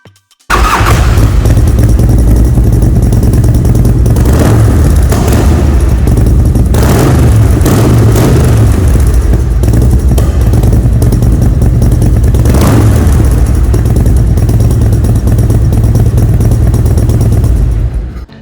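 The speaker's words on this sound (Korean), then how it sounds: "시동 영상 한번 보겠습니다" A 2009 Indian Chief Classic motorcycle with a 1720cc V-twin starts and settles into a loud, deep, rumbling idle with occasional throttle blips, recorded up close and running steadily for the whole stretch without anyone talking.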